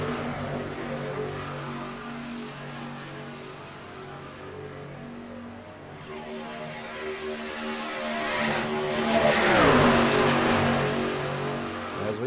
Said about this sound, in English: making sure you're hearing the cars